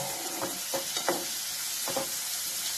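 Capsicum and tomato stirred in a frying pan over a constant sizzle, with a few distinct spatula scrapes and clacks spaced irregularly, heard up close.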